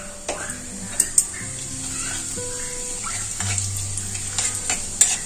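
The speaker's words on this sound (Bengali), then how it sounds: "জিরে তেজপাতা ভাজা হয়ে গেছে" A small bay leaf and whole cumin crackle and sizzle in hot mustard oil in a kadai, a close, steady fry with a few sharp pops and light utensil clinks.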